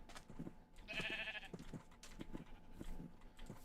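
A single wavering sheep bleat from a video game rings out early, followed by a steady series of soft, muffled thumps and footfalls at moderate volume.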